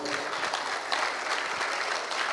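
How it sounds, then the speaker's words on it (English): Dense, steady applause from an audience at a youth seminar in Hyderabad, a continuous wash of hand claps heard from some distance, without talk. "Big round of applause."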